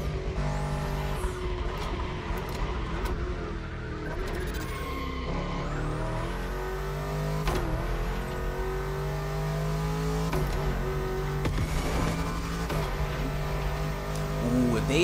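Lamborghini Urus SUV in The Crew Motorfest racing game, its engine revving and shifting through gears over a steady road roar, with brief tire squeals and a person talking over the car.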